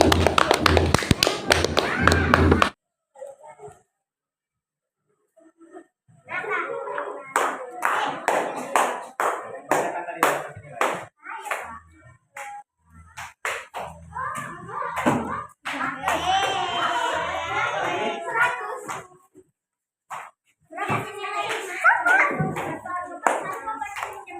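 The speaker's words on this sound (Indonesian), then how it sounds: "kasih aplaus dulu untuk temannya, ya" A classroom of students clapping for a classmate during a school lesson, with a brief burst of applause at the start followed by scattered taps and children's chatter in the room.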